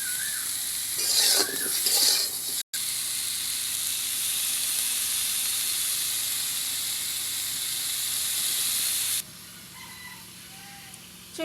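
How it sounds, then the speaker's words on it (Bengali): Pointed gourd (potol) with turmeric fries in oil in a pan on the stove, a steady close hiss and sizzle that runs for several seconds before suddenly dropping away quieter. "চুলায় পটল ভাজা হচ্ছে"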